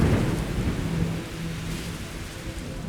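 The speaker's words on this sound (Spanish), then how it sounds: "Ocurre lo propio con el simple sonido de un trueno" Low thunder rumbles steadily through a dense wash of rain falling on surfaces, heavy and continuous with no voices.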